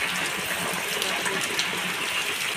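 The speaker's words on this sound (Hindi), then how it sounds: "आज सुबह से बारिश हो रहा है भाई।" Heavy rain pouring steadily onto a flooded village courtyard, a dense, continuous wash of water noise that stays loud and even for the whole stretch, with no voices.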